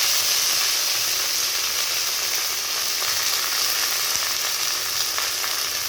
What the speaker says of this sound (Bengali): এবার সজনে পাতা দিয়ে দিব।